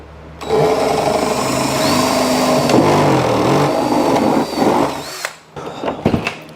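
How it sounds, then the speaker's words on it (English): A power drill bores a hole through the bottom of a jukebox cabinet, a loud continuous whirring grind lasting about five seconds that stops abruptly, followed by a few brief handling knocks. "I'm drilling a hole in the bottom of this for"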